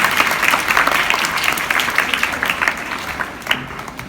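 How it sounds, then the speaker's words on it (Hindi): An audience at a Republic Day school speech event claps loudly to welcome a student speaker, a dense burst of applause that thins slightly toward the end. "शमाइला महरीन का जोरदार तालियों के साथ इस्तकबाल किया गया।"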